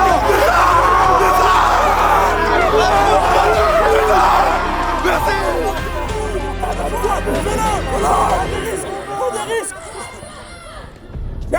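Football ultras roar and yell together inside a stadium during a home match, a dense continuous wall of crowd shouting and chanting that stays loud throughout, easing slightly toward the end.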